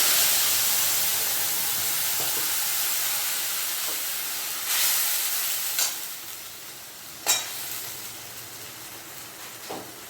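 Tomato, onion and green chilli paste sizzles and spits in hot tempering for Bengali bata fish curry, a steady frying hiss broken by several sharp spatters and a stir or two, close and alone.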